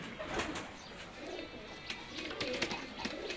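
Pakistani high-flying pigeons coo in soft, repeated low calls close by, over a faint background hum, with no talking.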